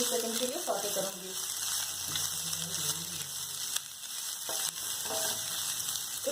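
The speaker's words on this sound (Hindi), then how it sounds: "मैं इसे तकरीबन 20 से 30 सेकंड के लिए सौटे करूँगी, ताकि हमारी गाजर हल्की सी सॉफ्ट हो जाए" Carrots and chillies sautéing in a pan, a steady close sizzle with faint stirring scrapes throughout and a voice talking over it.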